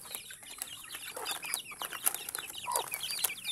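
Chickens cluck and chatter nearby in quick, overlapping bursts, with a few sharper calls standing out over a quiet background.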